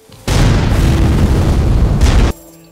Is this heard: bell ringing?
no